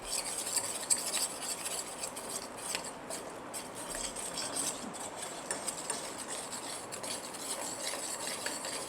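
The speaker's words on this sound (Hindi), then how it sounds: "अच्छे तरीके से हम भूनेंगे बेसन को।" Gram flour stirred and roasted slowly in a pan on low heat, a quiet continuous scraping with small ticking spoon contacts, steady and close throughout, no talk.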